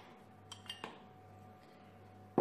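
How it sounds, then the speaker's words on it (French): A few light metallic clinks and taps of a saucepan being handled close by in a kitchen, followed by a louder clunk at the end, in a quiet room. "Ensuite, je vais prendre une casserole."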